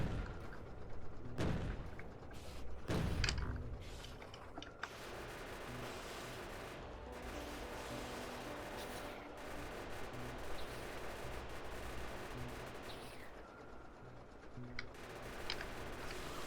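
Gunfire with piercing rounds in the factory-building game Factorio rattles in rapid, dense bursts, with a couple of louder volleys early on, then a continuous crackling barrage underneath that runs throughout at moderate level.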